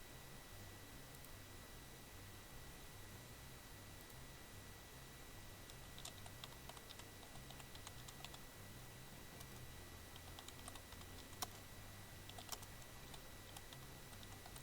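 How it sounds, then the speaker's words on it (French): Faint, scattered keystrokes tap on a noisy computer keyboard, with irregular clicks over a low hum and background hiss. "Ah oui, il n'est pas très discret, ce clavier."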